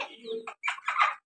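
Chickens cluck in short bursts close by on a home terrace, a run of low clucks followed by two louder, higher squawking calls with a brief pause between.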